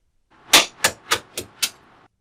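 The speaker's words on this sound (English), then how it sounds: "wrap it up in paper towel, then smash it with something heavy." Five sharp cracks in quick succession as a paper-towel-wrapped glass test tube is smashed with something heavy in a chemistry lab, each hit short and bright, evenly spaced, with nothing else around.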